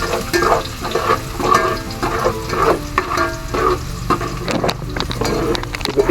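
Garlic frying in a hot pan for chicken sotanghon soup, a close, steady sizzle broken by the quick scrape and clatter of stirring.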